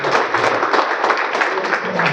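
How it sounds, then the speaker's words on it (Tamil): A Rotary Club of Sivakasi audience gives loud, dense applause to welcome its chief guest, a district governor, the clapping sustained and close, with some voices mixed in. "எல்லாரும் ஒரு பெரிய ஒரு கரகோஷம் போட்டு வரவேற்கலாங்க"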